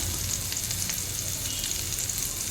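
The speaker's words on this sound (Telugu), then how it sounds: "పచ్చిమిర్చిని ఇలా ఫ్రై చేసుకోవాలి" Green chillies fry in hot oil, giving a steady, dense sizzle with faint crackles throughout, close and continuous with no voices.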